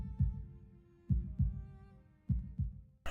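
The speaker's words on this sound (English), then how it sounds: "I listen to the sound of my heartbeat slowing down until it reaches its normal rhythm, and I listen to the sound of Shizune's brea" A heartbeat from the visual novel game Katawa Shoujo, slow paired low thumps repeating with a soft sustained musical tone in the background, ending with a sudden louder sound.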